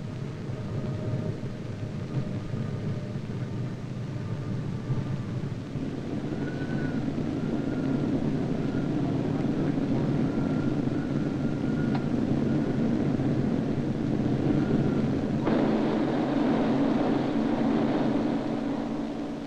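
A B-29 bomber fitted with reversible propellers lands during Army Air Forces tests, heard as a long, broad engine drone. The roar grows stronger and fuller partway through, with faint tonal whines over it.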